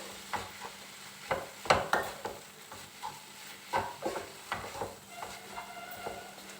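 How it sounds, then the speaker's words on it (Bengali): Cumin powder and ginger paste for a squash ghonto are stirred and fried in a pan, giving a soft sizzle broken by the repeated scrape and clack of a spoon against the pan. "এবার মশলাগুলোকে ভালো করে মিশিয়ে একটু ভেজে নিতে হবে।"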